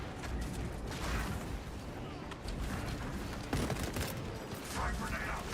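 A servo gun firing in the video game Space Marine 2 during a Techmarine battle, a dense, continuous rumbling barrage blended with mechanical clatter and combat noise, fairly quiet and steady throughout.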